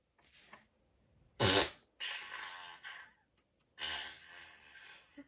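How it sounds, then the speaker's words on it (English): Several wet, sputtering diarrhea farts come in separate bursts a second or so apart, the second short and loudest, the others longer and rougher, close up with no talking. "I think you get diarrhea farts."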